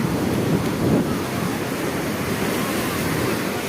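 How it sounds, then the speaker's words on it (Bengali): Big waves break heavily on the beach at Digha Mohana, a loud, unbroken surf roar with a slightly stronger surge near the start and wind rumbling across the microphone. "বড় বড় ঢেউ আসছে।"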